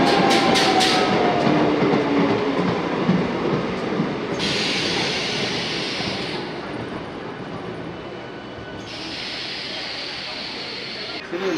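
MEMU passenger train running from Ernakulam to Kottayam, heard from on board as a loud continuous rumble with rhythmic wheel clatter and bursts of high hissing, while people talk in the background.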